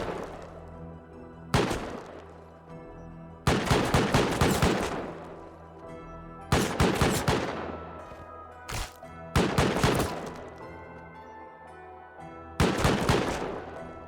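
An automated turret in a video game fires in rapid bursts of a few seconds each, separated by short quiet gaps, loud and sharp against a low background hum.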